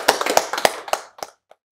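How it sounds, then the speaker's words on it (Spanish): Brief applause for a teacher at a Spanish-language school assembly: a short burst of scattered hand claps that thins out to a few final isolated claps and fades within about two seconds. "bríndale un aplauso a la profesora"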